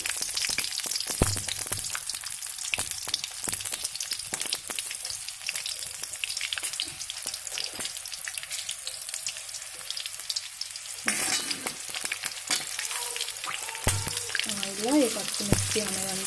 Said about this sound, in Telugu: పచ్చి మిర్చి అనేదంతా డీప్ ఫ్రై అవ్వాలి